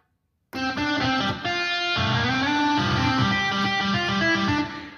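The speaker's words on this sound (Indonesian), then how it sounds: "Saya ambil contoh suara gitar misalkan." A sustained chord from the guitar voice of a Yamaha PSR-SX keyboard, distorted and effects-heavy, starts abruptly after a moment of silence and rings steadily for a few seconds before cutting off.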